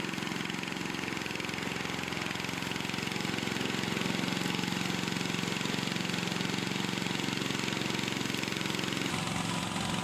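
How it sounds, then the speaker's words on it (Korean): A remote-controlled robotic lawn mower runs in a garden on Jeju, giving a quiet, steady motor drone that holds evenly throughout, with a slight change in tone near the end. "생김새가 조금 낯선 이 기계의 정체는 잔디 깎는 로봇입니다."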